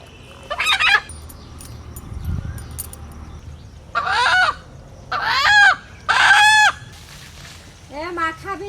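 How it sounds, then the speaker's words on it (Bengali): A village country chicken clucks and squawks in several loud, close bursts separated by short pauses, with quieter rustling between the calls. "সকালবেলায় ধরলো মুরগিটা, এইখানে ছিল"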